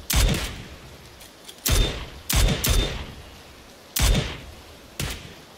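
Gunfire in an online shooter game: six sharp, loud shots in an irregular sequence, some closely paired, each cracking out and then fading in a short echoing tail, with no voices over them.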